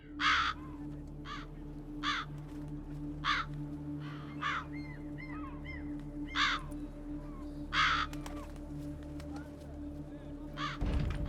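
Crows caw around a toy shop in The Witcher 3 video game, a series of harsh, repeated caws every second or two over a steady humming game ambience, some louder and nearer, others fainter.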